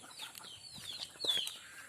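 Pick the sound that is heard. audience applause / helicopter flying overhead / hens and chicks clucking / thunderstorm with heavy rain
hens and chicks clucking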